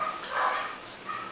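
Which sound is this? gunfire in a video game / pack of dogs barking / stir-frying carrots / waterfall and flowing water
pack of dogs barking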